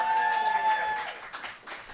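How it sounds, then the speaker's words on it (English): An audience at a Labyrinth 30th anniversary show applauds a guest as he is introduced. A sustained musical tone opens the moment, then dense clapping swells and carries on for a couple of seconds. "big round of applause for Toby Froud"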